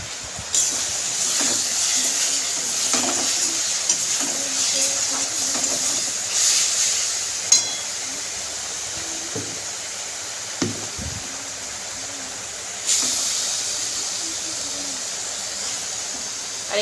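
A ground paste of tomato, ginger, garlic, onion and green chili sizzles steadily as it is stirred and fried in oil for a mutton curry, with a constant hiss and occasional soft scrapes and knocks.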